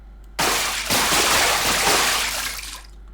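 In a video game, a character stepping onto water sets off a loud splash effect that rushes in abruptly and swells into a sustained, sloshing wash for nearly three seconds before cutting off.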